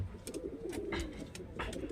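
A Murshidabadi Giribaz pigeon coos in low, rolling murmurs, close and fairly steady, with faint clicks and rustles over the short stretch.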